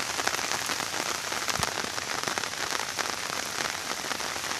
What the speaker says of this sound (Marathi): थोडा थोडा रिमझिम रिमझिम पाऊस पडतोय.